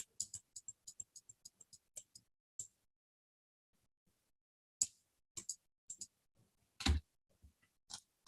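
Computer mouse clicks while dragging out a selection in Photoshop, bursts of quick light taps separated by quiet gaps, close and crisp.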